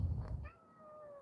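A cat gives a single drawn-out meow, close and moderately loud, over a low rumbling room background, with a faint trailing tone at the end.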